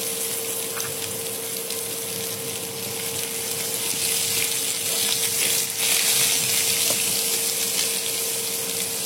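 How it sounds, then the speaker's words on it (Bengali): Chopped potatoes fry with spices in a pan, giving a steady, close hiss and sizzle with a constant tone underneath and no talking. "আলু কুচিগুলোকে দিয়ে পর আবার খুব ভালো মতো ভেজে নিতে হবে।"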